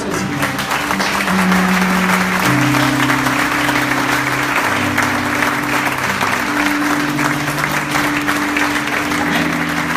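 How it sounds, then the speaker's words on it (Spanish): A church congregation applauds during a Yom Kippur teaching, sustained clapping from many people lasting ten seconds, loud and even, over held keyboard chords that shift underneath. "Den un aplauso al Señor."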